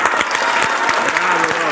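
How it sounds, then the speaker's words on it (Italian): Clapping from a crowd rings out steadily and loudly, a dense continuous applause with scattered sharper claps, apparently in a television studio audience setting. "Ti applaudi da solo?"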